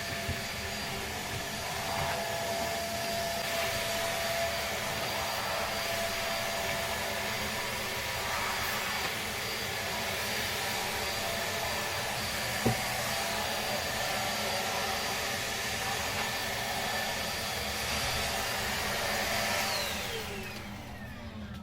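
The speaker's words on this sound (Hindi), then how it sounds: "अब हम करते हैं वैक्यूम।" Household vacuum cleaner running steadily indoors, a loud continuous motor whine with broadband airflow noise throughout, one brief knock midway, and the motor winding down at the end.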